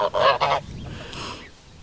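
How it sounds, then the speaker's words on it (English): A pet goose in a box on a farm gives two loud, close, nasal honks in quick succession, then goes quiet apart from faint rustling. "And here's Pet Goose in his box."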